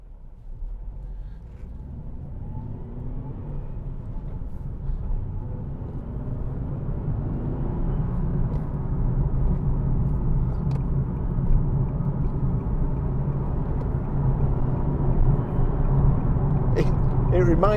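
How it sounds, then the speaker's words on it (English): 2014 Nissan 370Z GT with its 3.7 V6 pulls along the road, a continuous low engine drone with a faint howling tone building slowly over the stretch, heard from inside the cabin alongside road rumble. "it sounds like, almost like a supercharged engine. There's kind of a howl"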